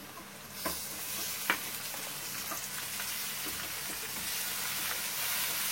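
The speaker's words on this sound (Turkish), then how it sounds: "biz bunun içinde soğan ekliyoruz" Chopped onions fry in a pan of oil for an okra dish, giving a steady close sizzle with a couple of faint clinks from stirring.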